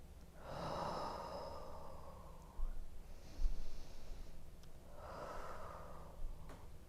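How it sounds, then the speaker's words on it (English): Slow, deep breaths from someone holding a malasana squat during a yoga session, one long airy exhale, a quieter pause, then another long breath, close and soft with no talk. "we're going to take just 2 more breaths here."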